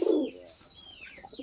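Homer pigeons on a farm, a brief low coo near at the start followed by faint chirps and rustle in the background.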